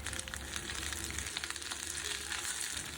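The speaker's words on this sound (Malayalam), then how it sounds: "ഇത് നമുക്കൊന്ന് സോട്ട് ചെയ്തെടുക്കാം" Chopped onion and capsicum sizzle and fry steadily in hot oil in a pan while cooking chilli gobi, a constant close crackle with occasional stirring.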